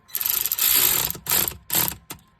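A mini impact wrench snugs cylinder head bolts on a Polaris 700 engine, with one long rattling burst followed by three shorter hammering bursts, loud and close with quiet gaps between them.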